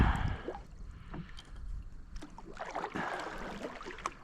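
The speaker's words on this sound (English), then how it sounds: "I'm gonna paddle all the way to the edge" A kayak being paddled across a pond toward the bank, with soft, fairly quiet splashes and water swishes from the strokes against faint outdoor background.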